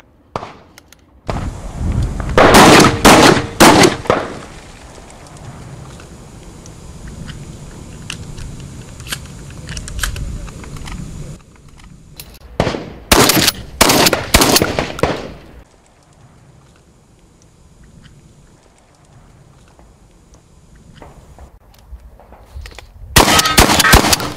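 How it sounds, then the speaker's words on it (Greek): A Browning BPS pump shotgun fires in rapid strings of sharp, loud reports, coming in three separate bursts with quieter gaps of background noise between them. "είναι ένα όπλο που ρίχνει πάρα πολύ γρήγορα."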